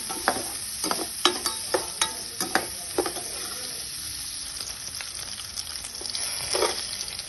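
Chopped onion fries in oil with popped mustard seeds, a continuous close sizzle broken by sharp spoon taps and stirring scrapes, busier at first and then settling into a steadier hiss.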